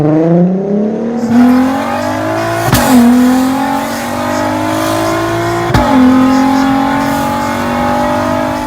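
Stock VR6 engine in a dual-clutch car revs loudly up and down through its exhaust, rising in pitch several times with sharp shift breaks between pulls, close and alone.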